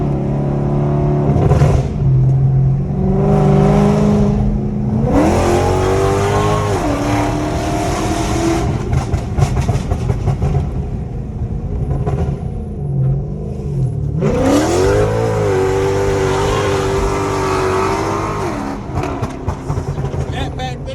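A cammed Chrysler 300C races a second-generation Dodge Charger, with loud V8 engines revving and surging in repeated acceleration pulls, heard up close, while people talk throughout.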